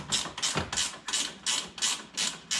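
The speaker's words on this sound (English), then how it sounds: "we'll grab a 10mm gear wrench" A 10mm gear wrench ratchets a bolt on the front grille of a 2013 Dodge Grand Caravan, giving about seven rhythmic rasping clicks in quick succession, close and clear.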